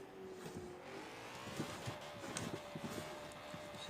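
BMW M4 coupé drifting in Forza Horizon 4, a steady engine drone with tire squeal and rising revs, played with a steering wheel, continuous and fairly close.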